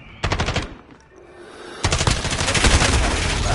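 Automatic gunfire in a Call of Duty match: a brief rapid burst, a moment's lull, then a longer, louder sustained volley of rapid shots, close and punchy.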